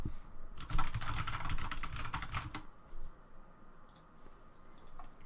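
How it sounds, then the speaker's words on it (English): Rapid typing on a computer keyboard, a dense burst of close clicking keystrokes that thins into sparse, scattered taps toward the end, with no talking. "Sorry, just had to type something to someone."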